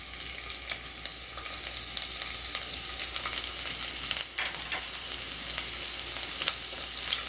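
Chopped garlic fries in oil in a kadai with a steady, close crackling sizzle and occasional stirring clinks, no voices.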